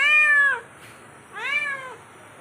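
A house cat in a kitchen gives two loud, close meows with a short pause between them, each call bending downward at the end, and no speech over them.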